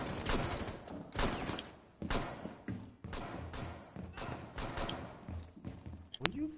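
Pistol fire in Rainbow Six Siege Terrorist Hunt: several sharp, separate gunshots spaced a second or so apart over muffled game sounds, with players talking between the shots.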